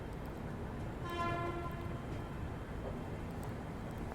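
A diesel locomotive shunts at a railway station. A steady low rumble fills the scene, and a brief tonal horn sounds partway through from some distance.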